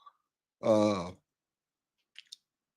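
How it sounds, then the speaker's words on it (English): A single drawn-out yawn with a voiced, groaning tone, heard close and alone in a quiet room, with a couple of faint clicks afterward. "excuse me, I can't stop yawning"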